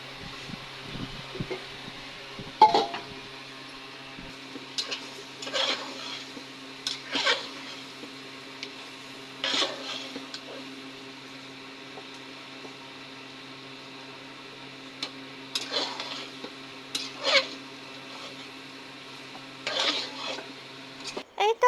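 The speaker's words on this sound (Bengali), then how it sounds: "সেদ্ধ করা আলুগুলো সব দিয়ে দিল এখন আলুগুলো সহকারে ভালো করে কষে নেবে" Boiled potatoes being stir-fried in a pan give repeated scraping and clinking strokes in irregular bursts over a faint steady hum, with quiet pauses between them.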